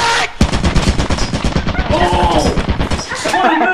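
Rapid automatic gunfire from a turret in the video game Lethal Company, loud, dense bursts of shots running almost without pause, with excited voices talking over them.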